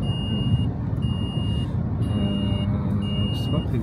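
Warning beeps from a father's car, sounding as short, evenly spaced high tones repeating over a low cabin rumble.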